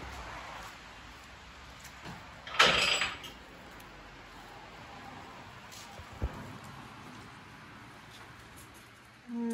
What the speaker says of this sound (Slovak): Tak otváraj dvere.